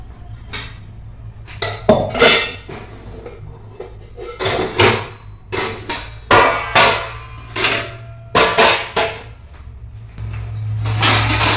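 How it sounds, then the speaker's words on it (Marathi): Washed dishes and utensils being put away in a home kitchen, a run of sharp clanks and knocks of metal and crockery set down at an uneven pace, close by with no talk. "भांडी लावून घेऊया पहिला आणि ते ओटा आवरून घेऊया"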